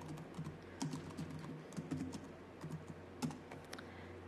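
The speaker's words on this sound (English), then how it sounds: "So I can type" Computer keyboard typing into a Julia programming console, a quiet run of light key clicks in an uneven rhythm with a few sharper taps, close and alone without talk.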